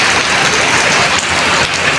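Heavy afternoon rain falls on a street, a loud continuous hiss of dense drops with no talking.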